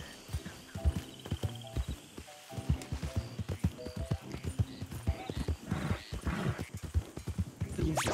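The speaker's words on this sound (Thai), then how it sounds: "ได้ยินเสียงม้าหรือเปล่า เสียงม้าน่ะ" Video game horse heard faintly at a distance, with rhythmic hoofbeat clip-clops coming in bursts and a short whinny in the mix.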